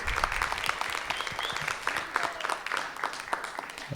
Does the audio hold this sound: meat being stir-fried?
no